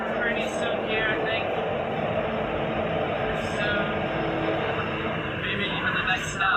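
Steady rumbling of a subway train ride in Asia, a continuous loud roar of wheels and car noise throughout, with some talk mixed underneath.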